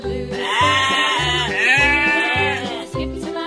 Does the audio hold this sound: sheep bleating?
yes